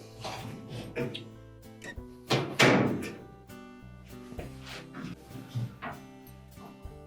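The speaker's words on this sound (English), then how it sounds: "You can then close the door up." A Whirlpool dryer door being shut during an idler pulley repair gives a single soft thunk amid light handling noises and quiet room sounds.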